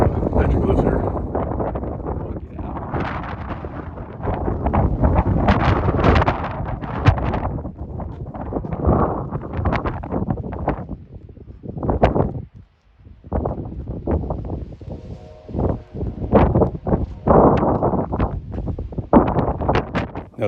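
Strong gusts at Newspaper Rock in Petrified Forest National Park buffet the microphone in loud, rumbling bursts that rise and drop, with brief lulls, as a person talks throughout.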